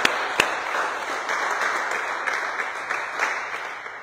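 A church congregation at a French-language service claps vigorously in steady, dense applause that fills the room, opening with a sharp clap and continuing evenly.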